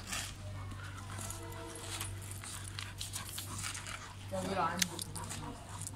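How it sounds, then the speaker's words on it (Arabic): A pit bull whimpers with a short, high-pitched whine beside a swimming pool, close by amid panting and movement while people talk. "الكلب عايز الكلب عايز تنزل في حمام سباحه"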